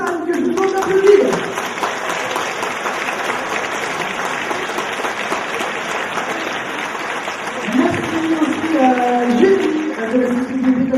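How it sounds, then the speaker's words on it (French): Steady applause from a large crowd at a beauty pageant fills the whole stretch, with a voice speaking in French over the clapping now and then. "Il y avait David, Jérémy, Damien et Roxane, que je vous demande d'applaudir"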